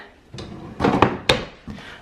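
Drawer on a rolling kitchen island sliding open or shut, a few short wooden knocks and slides in quick succession, close and fairly loud with no talking.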